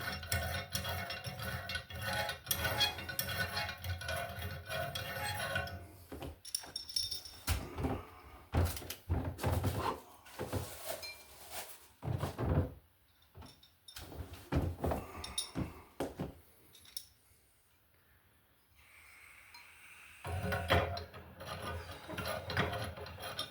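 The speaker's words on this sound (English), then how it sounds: "Now we just put our globes on here." Glass globes being fitted onto the threaded porcelain sockets of an Allen + Roth two-light vanity fixture, with close scraping, rubbing and clinking handling sounds in uneven bursts and a few quiet pauses.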